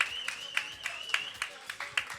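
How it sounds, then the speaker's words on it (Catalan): An audience claps in a steady, even beat for the music groups at a live event, each sharp clap clear and fairly close, with a sustained tone running underneath. "Un fort aplaudiment per tots aquests grups."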